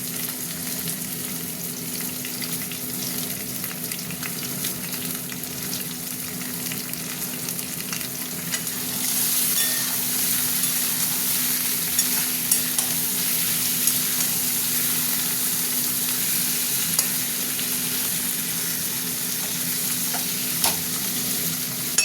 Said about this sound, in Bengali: পেঁয়াজটা ভাজা ভাজা হয়ে গেছে, আমি এবার চিকেনগুলো দিয়ে ভাজবো।